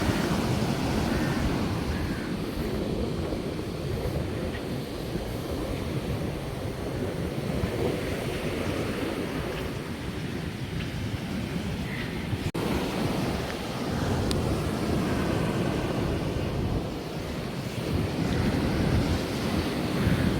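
Heavy sea surf pounds Thalaiyadi beach after a storm, a continuous loud roar of breaking waves with wind buffeting the microphone, steady throughout with no voices.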